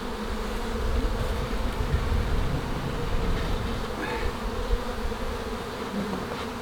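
A dense, steady buzz of honeybees fills the air at close range, loud and continuous throughout, while a beekeeper works a hive without smoke during an emergency swarm prevention.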